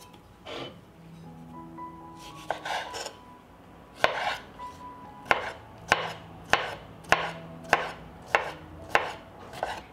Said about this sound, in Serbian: I iseckat ću 3 kisela krastavca sitno.